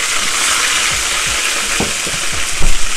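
Water poured into browned onions in hot oil gives a broad, steady hiss and sizzle with low bubbling pops, close and loud throughout.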